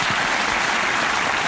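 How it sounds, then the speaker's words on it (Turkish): Brief steady applause fills the whole moment on a home cooking show set, a dense wash of clapping at constant level without talk. "Bir alkış olsun"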